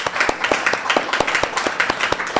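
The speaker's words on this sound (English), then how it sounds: "I'd like to give you a round of applause" A small audience at a policy panel event on AI and blockchain gives a round of applause, sparse distinct claps in an irregular, fairly close patter, moderate in loudness.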